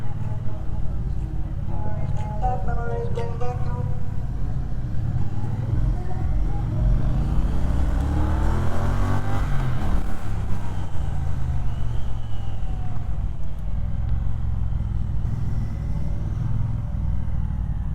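Triumph motorcycle running on a track at The World of Triumph event at Meco Kartopia, a steady loud engine drone with rising and falling pitch sweeps as the bike passes, with someone talking over it.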